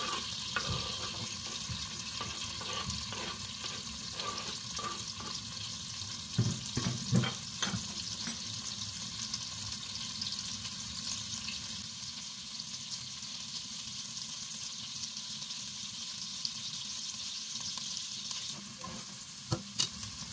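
Chopped onion frying in a pot of oil for a creamy mushroom soup, a steady close sizzle running throughout with occasional soft clatters of stirring and no talking.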